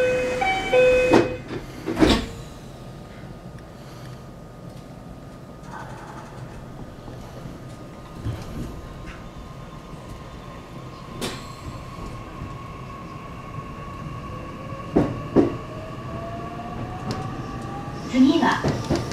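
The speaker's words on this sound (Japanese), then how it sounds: "まもなく発車します。" JR Wakayama Line train departing a station between Takada and Oji, Japan: steady low drone, a rising whine as it picks up speed, and a few sharp clanks; muffled announcements and voices play in the background.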